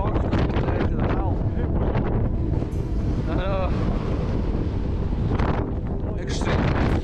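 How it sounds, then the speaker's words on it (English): Strong wind roars steadily across an exposed hilltop on the Isle of Islay, Scotland, buffeting the microphone loudly throughout with brief gusty swells, while someone talks over it. "Wind, folks, out here."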